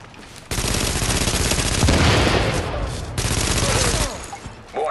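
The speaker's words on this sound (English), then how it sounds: "The best thing to do with this gun, just to let you guys know, is to burst fire it." Automatic rifle fire in The Division, dense sustained bursts of rapid close gunshots with brief gaps between, loud and continuous across most of the span.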